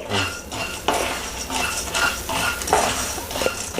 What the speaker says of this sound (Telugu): ధనియాలు ఇదంతా బాగా మీడియంలో పెట్టుకొని స్టవ్ వేయించుకోవాలండి